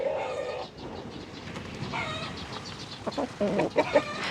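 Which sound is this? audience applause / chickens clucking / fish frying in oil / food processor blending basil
chickens clucking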